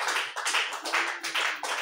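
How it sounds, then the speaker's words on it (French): Rhythmic clapping in a church teaching session, with hands striking in a steady regular beat roughly every third of a second, moderately faint and unaccompanied. "Applaudissez pour le Seigneur"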